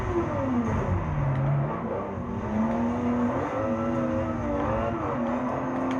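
A race car engine drones at Sebring in the racing game Forza 7, holding a loud steady whine that rises and falls through gear and throttle changes, with no talk.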